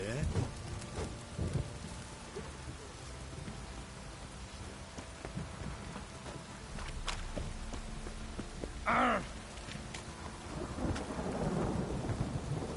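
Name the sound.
drizzling rain in a video game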